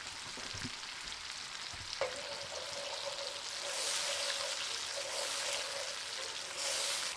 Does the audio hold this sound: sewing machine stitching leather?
no